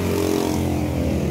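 Yamaha Sniper 150 motorcycle engine running steadily up close, a continuous low hum with a faint rise in revs, alone without talk.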